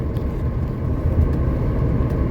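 A 1979 Mercedes 300SD runs on a test drive, a steady deep engine rumble with road noise, loud and continuous with no voices.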